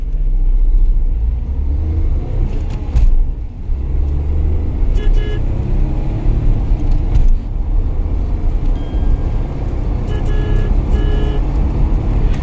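A Tata Nexon compact SUV in sport drive mode accelerates hard from 0 to 100 km/h, giving a steady, loud engine and road rumble that holds for the whole run, with no talking.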